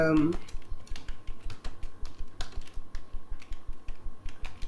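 Steady, rhythmic clicking of computer keyboard keys, close and fairly quiet, with a brief voice at the start.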